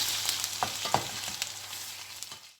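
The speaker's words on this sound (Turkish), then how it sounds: "Bunlar şimdi güzelce hep beraber kavrulacaklar." Minced meat, carrots and onions sizzling and crackling steadily in a hot pot, with occasional clinks of a utensil stirring, close by and without any talking.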